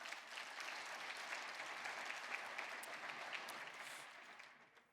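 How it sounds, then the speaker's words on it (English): Sustained applause from a large audience of attendees at the Williston Basin Petroleum Conference, dense and steady throughout before tapering off at the end. "How about a round of applause for all of you being here?"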